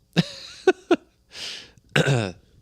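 A few short coughs close up, followed by a breathy exhale and a rough, voiced throaty cough at the end.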